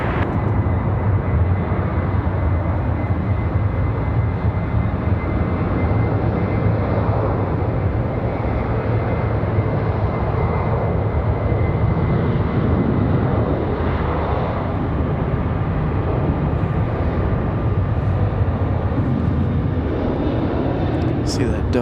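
An American Airlines jet, flight 2616, departs from Raleigh-Durham airport: a steady, loud broadband engine roar that holds throughout, swelling gently as it passes, with people talking beneath it.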